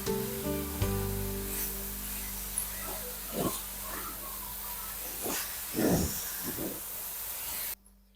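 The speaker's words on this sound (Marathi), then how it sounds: "आणखी दोन मिनिट आपल्याला हे छान असं मंदाचेवरच परतून घ्यायचं आहे" Coconut and jaggery modak filling stirred in a pan over low heat, giving a steady soft hiss with a few louder scraping swishes from the spoon, close and moderately quiet.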